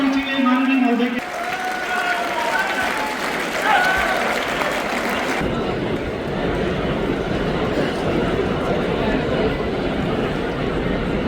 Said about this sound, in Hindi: तालियों की गड़गड़ाहट और जोर से होनी चाहिए माननीय महोदय की।